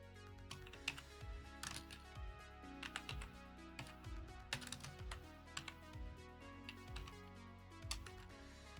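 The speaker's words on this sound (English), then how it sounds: "I'm not looking at what I'm typing" Someone types on a computer keyboard during a murder mystery game, with steady clusters of quick key clicks and occasional louder strokes, fairly close, with no voices.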